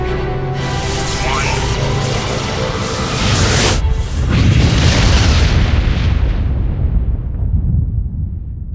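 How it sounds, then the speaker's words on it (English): Mass relay jump in the Mass Effect video game, a loud deep boom with a rushing swell that builds, then fades away over several seconds. "Hitting the relay in 3, 2,"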